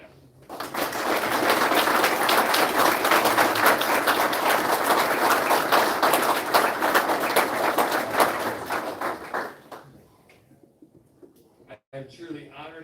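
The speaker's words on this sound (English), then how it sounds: "please give a round of applause to the Sassi family" Audience applause at a French Legion of Honor ceremony for a WWII veteran: sustained clapping from a crowd swells quickly, holds for several seconds, then thins to scattered claps and trails off, with voices faintly in the room.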